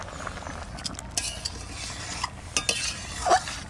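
A spoon stirs fried eggs into an egg curry in a pan, a soft scraping stir with light sizzling and a few clinks of metal, close and steady with no talking.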